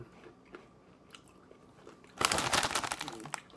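Sweet and salty caramel Bugles are bitten with a close, loud burst of crunching after a quiet start, crisp cracks crackling for about a second before fading.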